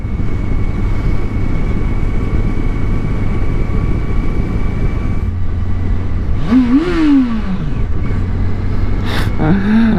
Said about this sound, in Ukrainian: Та в мене не такий громкий глушак, як в когось. Але попросили, я погазував.